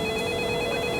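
A phone call to a mother-in-law rings out with a steady electronic tone. A single continuous ringback is heard up close with no speech.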